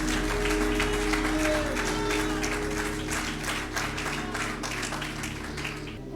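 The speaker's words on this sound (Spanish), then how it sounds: "¿Cuántos dan un aplauso a Dios, al Rey eterno, al Jesucristo," A church congregation claps together in sustained, dense applause that carries on steadily at moderate volume throughout, with a faint voice underneath.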